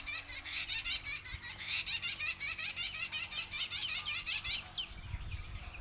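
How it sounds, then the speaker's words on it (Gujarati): A lelli bird, a babbler, sings a rapid run of repeated chattering, laugh-like notes in a steady pulsing rhythm for several seconds before trailing off, loud and close. "જો એ લેલી નામનું પક્ષી ગીત ગાય."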